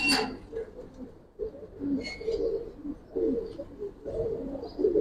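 A pair of brown-necked giribaz pigeons in a loft coo softly and repeatedly in low, throaty bursts, with a few brief higher chirps mixed in, close and steady.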